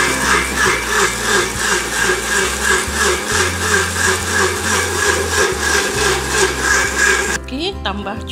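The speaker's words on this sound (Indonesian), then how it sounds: "kita blend sampai kita blend cili ni" A blender runs continuously, loud and close, whirring as it purees chillies with water for a homemade chilli sauce, then cuts off abruptly near the end.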